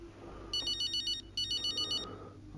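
A mobile phone ringtone plays two bursts of a quick repeating electronic melody, faint and set against low room noise, with no talk.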